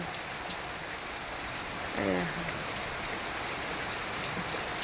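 Steady rain pouring down after a spell of heat, a dense even hiss of drops striking surfaces close around, with one faint brief whistle-like tone in the middle.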